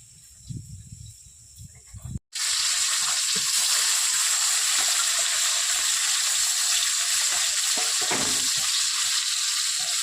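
Bata fish frying in oil makes a bright, steady sizzle that starts suddenly after a couple of seconds of quiet low rustling, then stays loud and even.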